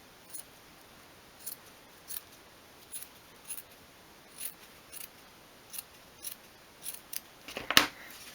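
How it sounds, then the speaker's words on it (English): Scissors trim around a thick, glued piece of fabric for a miniature dog or cat bed, making a quiet, steady run of about a dozen crisp snips spaced roughly half a second apart. "Just trim around carefully, making sure you don't cut into any of the stitches."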